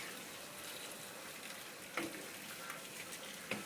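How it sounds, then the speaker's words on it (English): Potatoes and onion fry in a pan over steady broadband sizzle, with two brief scraping knocks as they are stirred together; no voices. "just mix the potatoes and the onion. You can turn up a little bit the fire and just mix all together."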